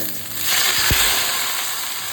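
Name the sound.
paneer recipe ingredients frying in oil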